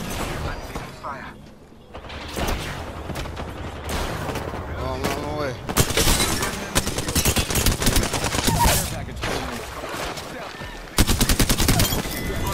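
Rapid bursts of automatic gunfire in the shooter game Apex Legends, with dense rattling volleys, mechanical weapon clicks and a voice talking over parts of the action.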